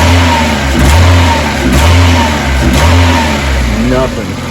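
Mazda Miata engine revving up and down several times, loud and close in short pulses, settling back toward idle at the end, with someone talking over it.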